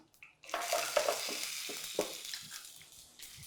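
Mustard seeds dropped into hot oil and stirred, a sudden hissing sizzle that rises and then crackles steadily, with a few soft scraping stirs, close by and moderately loud with no talking.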